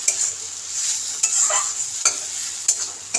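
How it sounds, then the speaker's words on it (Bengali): Ridge gourd pieces frying dry in a pan are stirred continuously, a steady close sizzle broken by a few louder scraping strokes of the spoon, with no voices. "আরও 2-3 মিনিট আমি এইভাবে নেড়ে নেব। সবসময় এইভাবে নাড়তে থাকতে হবে, না হলে কিন্তু লেগে যাবে।"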